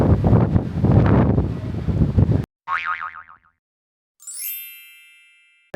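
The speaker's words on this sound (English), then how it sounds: "I was basically saying it's windy." Gusty wind outdoors aboard the P&O Britannia cruise ship buffets the microphone in a rough, rumbling rush, then cuts off abruptly before a cartoonish springy boing and a bright ringing ding.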